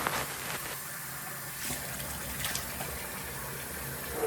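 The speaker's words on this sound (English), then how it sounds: "And here I am rinsing my face off really good and really thoroughly." Running water rinses a face clean during a skincare routine, a faint, steady splashing gush with small bursts, heard alone.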